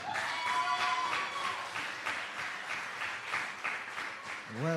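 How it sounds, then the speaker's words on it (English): Audience applause at a Jamaican youth mayors' forum, a steady broad wash of clapping from a crowd that carries through the clip, with a voice heard over it near the start and a brief vocal sound at the end. "Another round of applause for him."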